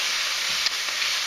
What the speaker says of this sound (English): If you hear sizzling in the background, I'm cooking meat.